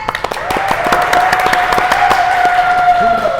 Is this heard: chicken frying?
no